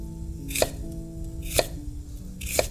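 Three evenly spaced knife strikes cut fennel into small pieces on a board, each a sharp, close thunk about a second apart, over a low background hum.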